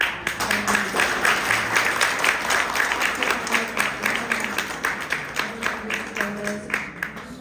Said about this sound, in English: join me in a round of applause for these two remarkable women